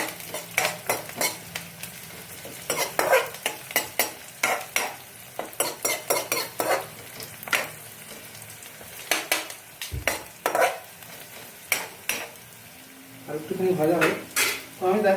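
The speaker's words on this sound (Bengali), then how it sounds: "তো এবার দেখো একটু ব্রাউন ব্রাউন হয়ে এসছে আর একটুখানি হোক ভাজুক" Pieces of chara pona fish frying and browning in a pan for a fish curry, with a steady low sizzle under repeated clinks and scrapes of a spatula stirring against the pan.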